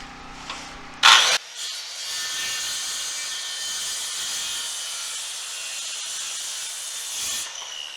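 A wooden rafter being cut at an angle with a power saw: a sharp burst of blade contact, then a long steady high-pitched whine of the spinning blade that fades near the end, close and loud, no talking.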